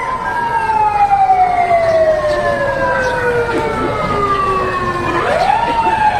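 A fire truck siren at a fire in Alabang, Muntinlupa wails steadily and loudly, its tone sliding slowly downward before sweeping back up near the end, over a constant road rumble.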